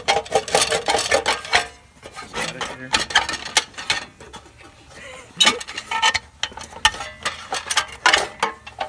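Metal shroud being worked loose and pulled off the flywheel of an old Briggs and Stratton small engine, with close scraping, rubbing and clanking bursts broken by short pauses.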